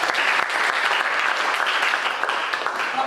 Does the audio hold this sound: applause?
yes